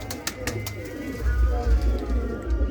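Low, soft coos of yellow-eyed pigeons repeat through the second half over a steady background murmur, with a few faint clicks early on.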